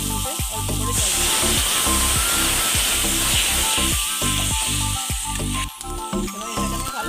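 Water hits a sizzling masala base for lauki kofta gravy, bursting into a loud hissing steam rush that persists and settles, with clanking and scraping of stirring throughout and a brief fall-off near the end.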